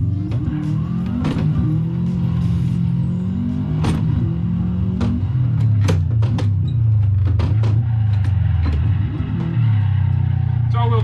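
A silver Subaru WRX, all-wheel drive, revs in a driving simulator, its engine droning steadily and rising and falling throughout, with sharp shifts and bursts breaking through a loud, continuous rumble.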